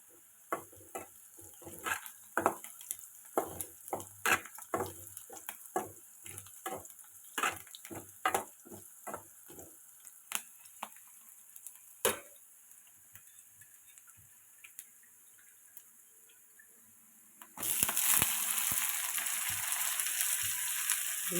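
Dried fish frying with onions in a pan, where irregular close taps and scrapes of stirring give way to a loud, steady sizzle near the end.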